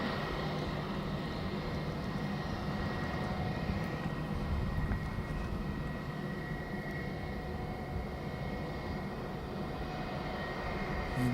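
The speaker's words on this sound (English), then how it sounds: "So he's going to have to hold for Jetstar coming in." A Jetstar airliner inbound from Melbourne approaches to land, its distant engine roar a steady, fairly faint rumble that holds evenly throughout under broadband airport ambience.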